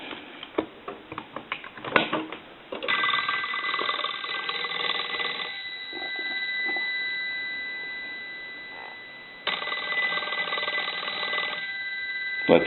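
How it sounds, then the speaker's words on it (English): A Western Electric 5302 rotary telephone rings with its mechanical bell, giving long sustained metallic bursts separated by a pause, loud and close, after some handling clicks and knocks at the start. "but I'll go ahead and ring the phone here."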